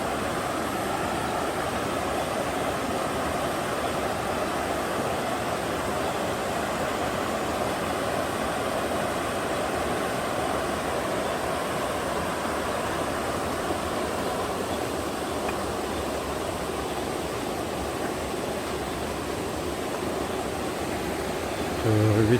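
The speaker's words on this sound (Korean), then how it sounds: "물소리가 듣기 좋습니다." Water flowing beside a field in a mountain village, a steady broadband rush that continues evenly at moderate level throughout, with no break.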